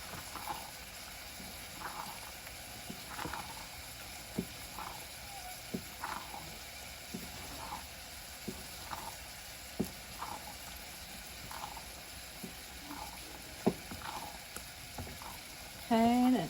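A spoon stirs a cup of grated Parmesan into risotto in a pan, with soft, regular scraping strokes about once a second over a faint, continuous sizzle and simmer.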